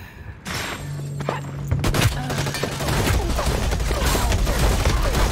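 Gunfire in the video game Hyperscape, a rapid fusillade of shots and booms over a dense, continuous game soundscape, loud and close.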